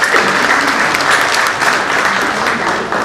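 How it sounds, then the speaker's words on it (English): A seminar audience gives loud, sustained applause, the clapping dense and continuous throughout with no speech over it. "I request the audience to give a thunderous applause"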